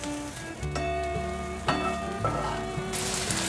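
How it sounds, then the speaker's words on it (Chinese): Vegetarian mushroom pieces stir-fried in a little oil in a pan make a steady, close sizzle, with occasional stirring clatter and a slight swell of frying noise toward the end, under soft background music. "锅内放入少许油，把素香菇角放进来炒香"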